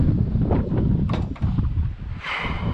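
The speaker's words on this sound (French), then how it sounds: "il fait un froid de fou, avec un vent du nord" A cold north wind buffets the microphone in loud, continuous low rumbling gusts, close and rough, with a brief hiss near the end.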